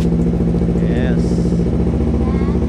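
A big motorcycle engine running at a steady idle right after being switched on, loud and close with a constant throbbing rumble.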